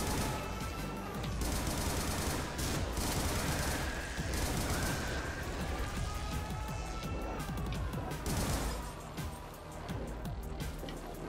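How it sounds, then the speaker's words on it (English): Assault rifle fire in the video game Butcher, dense rapid automatic bursts rattling almost continuously and loud, with chaotic impacts layered in and no talking. "Assault rifle hyper."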